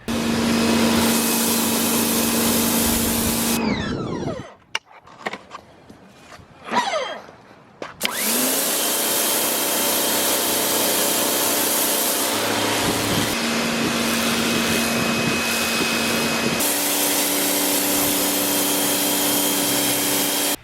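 A Sun Joe SPX4000-PRO electric pressure washer running on its high setting, a loud, steady motor whine and rushing spray heard up close, briefly cutting out and restarting partway through.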